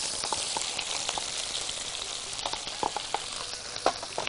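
Onions frying in a pan while cooking an okra tagine, a steady close sizzle and crackle running through the whole stretch with a few sharper pops near the end and no talking.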